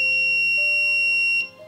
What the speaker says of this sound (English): Every time you push the switch here, LED turns on and the buzzer is buzzing.